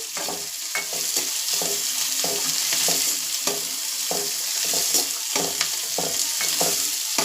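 Sliced onions with curry leaves and dried red chillies fry in a pan for drumstick leaves uppsaru, a steady close sizzle with spatula stirring and scraping in irregular bursts throughout, no voices.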